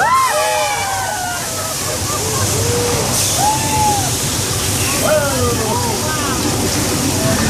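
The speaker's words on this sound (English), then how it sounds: "The flash flood effect is created by releasing thousands of gallons of recycled water from tanks at the top of the hill" Recycled water released from hilltop tanks rushes down a slope in a theme park flash flood effect, a steady loud wash that continues throughout, with voices and shouts from a crowd over it.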